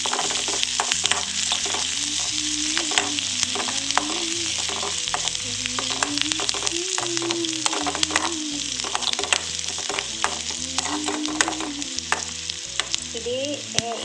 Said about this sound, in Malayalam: റെഡിയായി നമുക്ക് ഇതിനകത്ത് കുറച്ച് കറിവേപ്പിലയും കൂടി ഇട്ട് കൊടുക്കാം